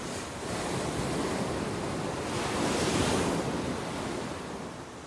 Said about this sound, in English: It seems such an extraordinary place to live, so wild and windy, with these crashing waves all around.